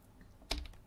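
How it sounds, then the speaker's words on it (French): A single key press on a computer keyboard, one short soft click standing alone in a quiet room. "Style et formatage que je peux aussi activer en frappant la touche F11 au clavier"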